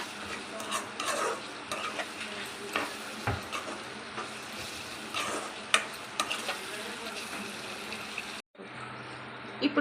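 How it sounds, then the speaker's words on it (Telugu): Maggi masala is stirred into a vegetable pasta sauce in a pan, with a steady soft sizzle under repeated scraping spoon strokes and light clinks, close and continuous for several seconds before a brief drop. "ఇలా వేసి బాగా మిక్స్ చేసేసుకోవాలండి"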